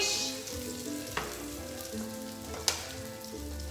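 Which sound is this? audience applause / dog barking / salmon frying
salmon frying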